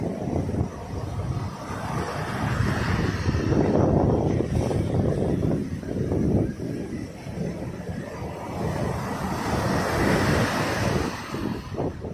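Loud, continuous ocean surf with large waves crashing and rolling close by against a beach and breakwater, mixed with gusty wind buffeting the microphone throughout.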